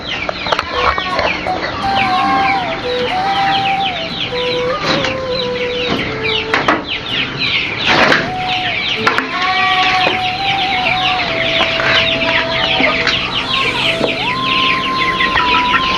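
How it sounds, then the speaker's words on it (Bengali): A crowd of chickens clucks inside a farm poultry house, many overlapping calls and squawks forming a loud, dense, continuous chorus up close, with no talk. "এখানে আমাদের মুরগি ঘরের ভেতরে"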